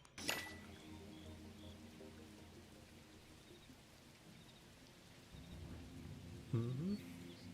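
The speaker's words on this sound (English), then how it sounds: "The rain has come down." Rain falls with a faint, steady patter, with a clink at the start and a low rumble near the end, distant and quiet throughout.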